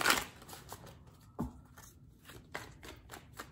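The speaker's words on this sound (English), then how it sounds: "Give it a couple more shuffles." Tarot cards riffle and slap together in several quick, soft bursts, close by in a quiet room.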